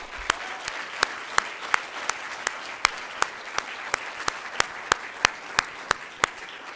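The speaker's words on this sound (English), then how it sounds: "I would like you to give yourselves a round of applause." Applause from an audience at a university competition finals, a steady rush of clapping from many hands with sharper single claps popping through at fairly regular intervals, continuing on its own without speech.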